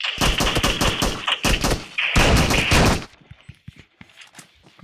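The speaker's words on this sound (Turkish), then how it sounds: "Pompalıyla uzaktan vurmaya çalışan o eleman." Pump shotgun fire in PUBG: loud, close bursts of rapid shots in quick succession, cut off sharply, then fainter distant pops and thuds.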